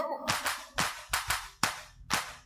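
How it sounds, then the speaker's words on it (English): Hands clap six times in an even rhythm during an Afropolitan gospel radio show, each crisp and close with short gaps between, and no talking over them. "Clap your hands like this."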